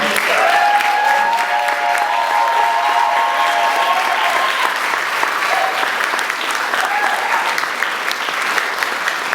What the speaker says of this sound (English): could you just stand for a second and we give Palmer a round of applause?